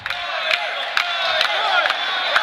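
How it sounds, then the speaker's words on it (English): A crowd cheering section at a PPW pro wrestling show yells and whoops in a steady, raucous roar with rhythmic surges, fairly close and continuous. "a little bit of a cheering section behind us"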